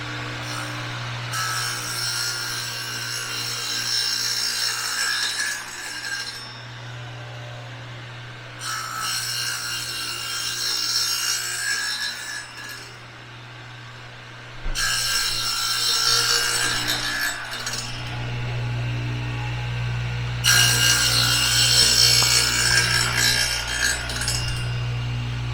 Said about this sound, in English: they're using the radial arm saw with the dado blade, or the wobble dado blade, whatever it is, to make finer cuts